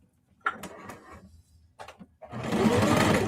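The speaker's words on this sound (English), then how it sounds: "just going to run a stitch just to keep them secured down" Sewing machine stitching a denim tote bag at a long stitch length: a few short stop-start bursts of needle clatter, then a loud, steady run of rapid stitching, close up with no talking.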